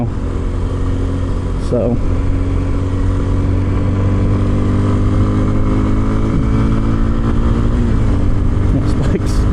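A 2026 Kawasaki KLX 230 Sherpa S motorcycle ridden off-road, its engine droning steadily under heavy wind rush, with someone briefly talking over the noise.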